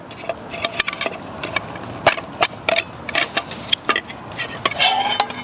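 A small Jetboil Summit camping skillet is handled on an MSR canister stove stand at an evening hammock camp, giving sharp metallic clinks and clanks at irregular intervals, close and fairly loud, with no talk.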